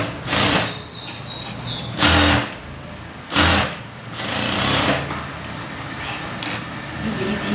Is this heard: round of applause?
no